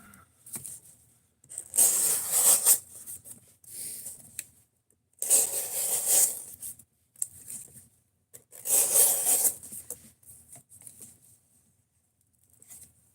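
A knife slicing through tough cardboard in three bursts of rough scraping and tearing, each lasting about two seconds with quiet gaps between, close and fairly loud with no talking.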